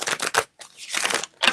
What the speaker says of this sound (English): I'm gonna shuffle these cards and see what it do.